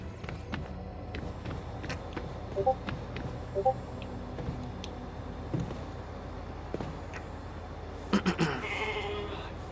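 A few short, faint bleats of a sheep in the video game The Alters come and go over a dull background hum, with a brief mechanical whir near the end.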